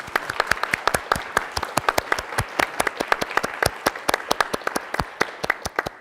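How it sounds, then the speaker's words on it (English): Applause for a performer at a talk event on climate collapse and imaginary worlds: a smaller audience clapping in a steady, fairly sparse patter of distinct individual claps, close and clear, with no talking over it. "huge round of applause for Harry Josephine Giles"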